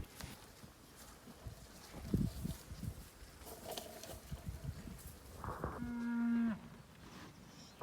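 Cows on a farm being fed vetiver grass, with one clear, fairly close moo near the end, a long tonal low call, over a rustling outdoor background.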